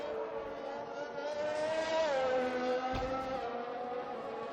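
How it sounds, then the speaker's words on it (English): Formula 1 race car engine in F1 2021 at Zandvoort on an out lap, a steady high-pitched whine with clear harmonics that sweeps down and back up through a gear change, loud and continuous with no talk. "Kay Gorniak coming around on his out lap to start his last flyer."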